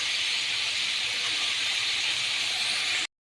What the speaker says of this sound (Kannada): ಕಾಳು ಜೊತೆ ಚೆನ್ನಾಗಿ ನೋಡಿ ಎಣ್ಣೆಲಿ ಈ ಥರ ಚೆನ್ನಾಗಿ ರೋಸ್ಟ್ ಮಾಡ್ಕೊಳ್ಬೇಕು